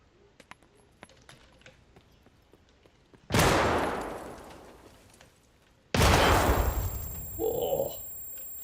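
A shotgun fires in the shooter game Escape from Tarkov: two loud, booming blasts a few seconds apart, each trailing a long decay, preceded by small clicks and followed by a brief mechanical rattle.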